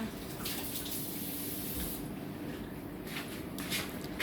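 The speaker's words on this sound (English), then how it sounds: "Also, we're going to wash our hands." A tap runs steadily for handwashing in a home kitchen where rice balls are being made, a constant close splash of water with slight shifts as hands move under the stream.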